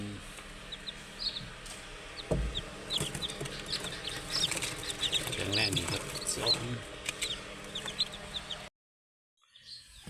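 Many small, high-pitched peeps from about fifteen newly hatched chicks chirping close by, overlapping with someone talking and some handling noises, ending in near silence.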